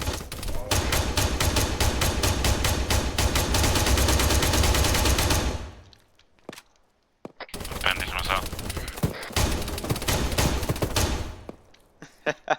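Sustained automatic gunfire in Arma 3, in a modded operation set in New York: a long, loud rapid stream of shots that cuts out into near silence, then more bursts of firing return before fading.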